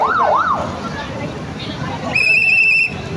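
An emergency siren sounds in a street crowd at a protest on EDSA, opening with a fast wailing sweep and then a steady high electronic tone. It plays over constant crowd babble.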